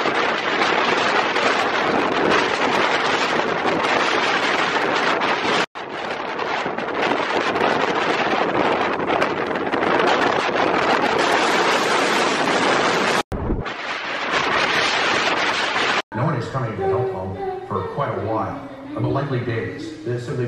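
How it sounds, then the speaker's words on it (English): Strong hurricane-force wind gusts during a Category 4 hurricane's landfall roar loudly and continuously against the microphone, with brief cutoffs and a voice speaking near the end. "Like, the gusts are really strong right now."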